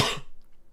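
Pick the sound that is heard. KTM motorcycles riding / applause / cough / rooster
cough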